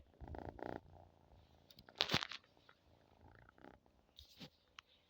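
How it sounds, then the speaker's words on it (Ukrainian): A sleeping cat purring softly and steadily, close by, with a few brief rustles and a louder shuffle partway through. "Він так спить сладко, послухайте, як мерчить."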